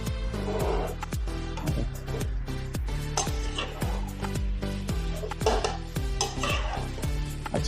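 Mutton curry with radish is stirred and sautéed in a pot with cinnamon, cloves and star anise, a spoon scraping and clinking repeatedly against the metal over a steady frying sizzle, close and fairly loud with no talking.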